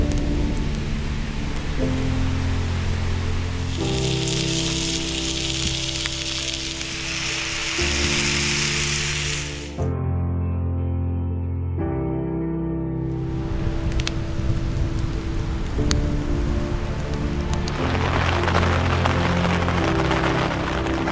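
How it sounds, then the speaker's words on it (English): Rain drumming steadily on a tent during a solo winter campout, a dense hiss that fills the whole clip, with a brief dip partway through before the downpour resumes, no voices. "Raining pretty good now."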